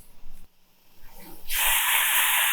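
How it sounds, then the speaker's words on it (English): After a brief lull, a loud, bright fizzing hiss rises up close and keeps going steadily, like a freshly poured carbonated drink. "Listen to that sizzle"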